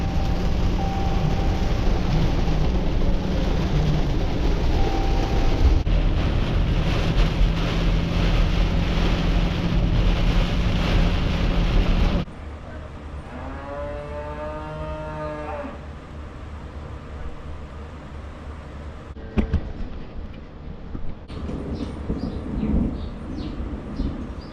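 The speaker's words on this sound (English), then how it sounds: "Wow, it's really pouring." Heavy rain pours hard during a thunderstorm, a loud, dense, roaring wash for about twelve seconds before dropping to a quieter patter, where a low, drawn-out animal-like call is briefly heard.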